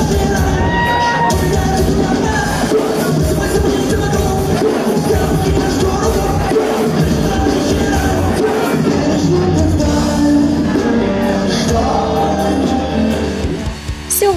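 A crowd at a rock concert shouts, whoops and cheers continuously. The sound is loud and dense, with the music blending into the noise throughout.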